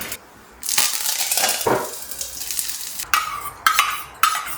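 Mustard seeds and curry leaves frying in coconut oil for a beans palya, a loud crackling sizzle that bursts in after a quiet start and continues with spattering pops and sharp bursts.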